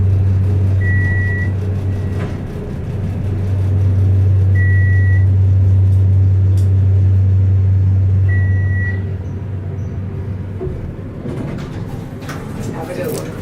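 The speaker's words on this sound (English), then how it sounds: "This is the elevator here at the Hawaiian Inn in Daytona Beach, Florida. Got some vintage Otis elevators" Vintage Otis hydraulic elevator at a Daytona Beach, Florida hotel, a steady loud low motor hum with a periodic high chime, the hum swelling mid-ride then easing as the car stops, with voices talking over it.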